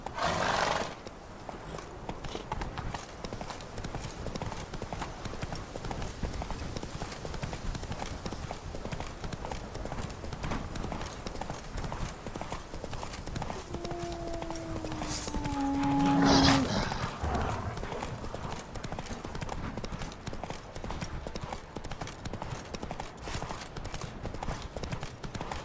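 Roach the horse gallops in The Witcher 3, a fast, steady drumming of hoofbeats that runs throughout at moderate loudness, with a short spoken line partway through.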